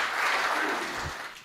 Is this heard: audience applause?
yes